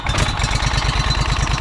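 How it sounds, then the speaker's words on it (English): A small engine on a compact digger runs at a steady, rapid chug, close and loud, with an even throbbing rhythm throughout. "Let's see how this little guy starts up this morning."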